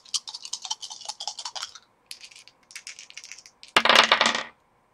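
Four dice rattle and clatter across a hard surface during a Vampire: The Masquerade tabletop session, a burst of sharp clicks, then a second shorter roll and a final loud tumble, close and alone.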